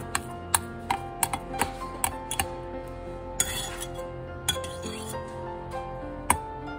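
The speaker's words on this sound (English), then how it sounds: "Stir that up. Stir it up nice and good." Homemade soft plastic bait mixture being stirred in a container, sharp metallic ticks and clinks at an uneven pace against a ringing tone, close and clear.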